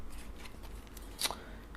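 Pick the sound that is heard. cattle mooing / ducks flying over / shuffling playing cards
shuffling playing cards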